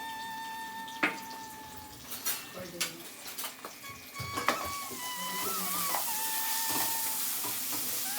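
Red amaranth, eggplant, potato and peas frying in a pan with salt and turmeric, a quiet hiss and sizzle joined by scattered clinks and stirring knocks, with a soft steady frying noise building toward the end.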